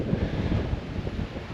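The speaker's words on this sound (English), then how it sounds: "You see how windy." Wind blows steadily across an open bush homestead, a dense, loud rushing roar with low microphone buffeting and no voices.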